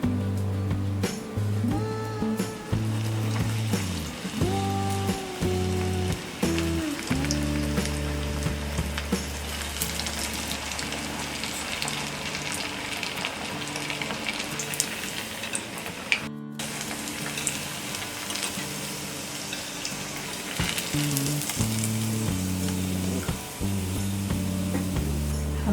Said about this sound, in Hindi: हमने इसे मीडियम फ्लेम में फ्राई कर लिया है।